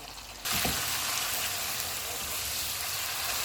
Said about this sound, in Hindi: अब हम चूल्हे को फुल कर देते हैं और इसको भून लेते हैं।